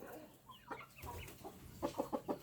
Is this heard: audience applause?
no